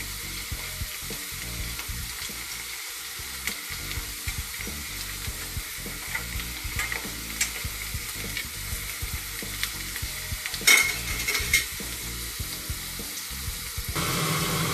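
Chana dal frying in hot oil for a crispy namkeen, with a steady close sizzle and repeated scraping stirs throughout and a brief louder clatter of utensils near the end; no voices.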